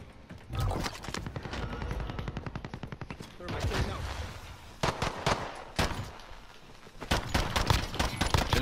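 Rapid automatic gunfire in a shooter game rattles in dense, loud bursts with short gaps between them, close and continuous across the whole stretch, with a faint voice underneath.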